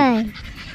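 A French bulldog puppy makes a short whimpering, whining sound that falls in pitch, followed by faint breathy panting, up close and brief.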